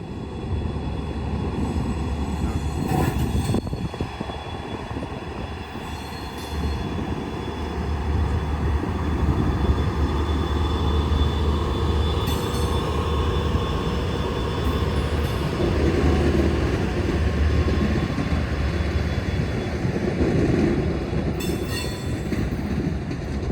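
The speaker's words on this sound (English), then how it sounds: "Here's the first 5-car train departing base camp for its first run in revenue service the following morning." Brightline five-car passenger train with Siemens equipment departs a rail yard, a steady rolling rumble of wheels and carriages with occasional squeals and clicks on the rails, continuous and fairly close throughout.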